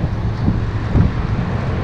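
Wind buffets the microphone during a cold but sunny motorcycle ride, a steady low roaring rush with a couple of stronger gusts, close and loud and without any voices.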